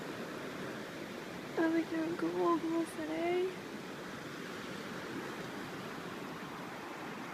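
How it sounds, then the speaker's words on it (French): A river flows beside a campsite near Queenstown, New Zealand, its steady broadband rush running evenly through the whole clip while someone briefly speaks over it in French. "devant une super belle rivière"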